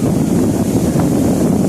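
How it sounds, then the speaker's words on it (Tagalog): Strong wind sweeps across open sea around a fishing boat, a loud, steady roaring rush with a low rumble that never lets up, and no voices. "malakas yung hangin"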